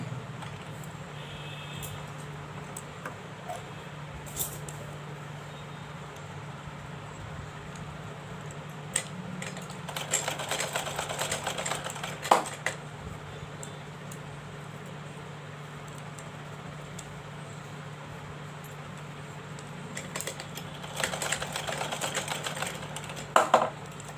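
A home sewing machine stitches clothing while a blouse is being altered, its motor whirring in two short bursts against a quiet room with a low steady hum.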